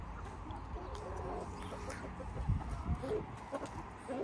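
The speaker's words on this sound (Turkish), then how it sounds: "Bu da yarkamız mesela, bakın bayağı bir artık tavuk olmaya yaklaşmış." Chickens and young roosters in a rain-soaked coop, soft scattered clucks and rustling over low background noise, faint and fairly close, with a few brief sounds around the birds.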